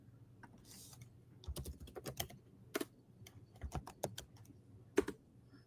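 Someone enters a name on a computer keyboard, a close run of light, irregular key clicks in quick bursts over quiet background, without talk.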